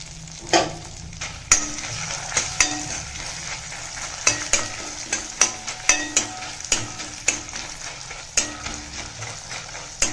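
Urad dal, chana dal, black pepper and dried chilies roasting in oil for milagu kuzhambu, a close, continuous sizzle broken by frequent sharp spoon scrapes and taps against the pan in a fairly regular rhythm, with no talking.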